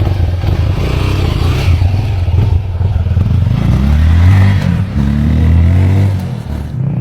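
A motorcycle revs on a road, its engine note rising and falling in loud, sustained surges with some rattling clatter, close by and steady throughout.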